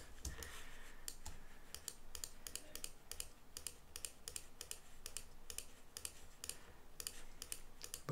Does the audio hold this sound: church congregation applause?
no